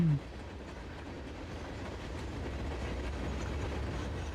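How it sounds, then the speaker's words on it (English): Freight train rolling along a line in the console edition of Transport Fever 2, a steady rumbling wheel noise with faint clickety-clack, continuous and moderately near with no talking. "I'm going to allow that train to deliver its cargo"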